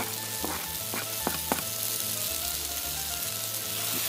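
Chopped garlic and mushrooms fry in a pan on a Shmel primus stove outdoors, giving a steady close sizzle over the stove's low hum, with a few quick stirring scrapes early on. There is no talking.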